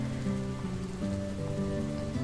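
Heavy, pouring rain hisses steadily as a constant wash under sustained musical tones, with no break for the whole stretch.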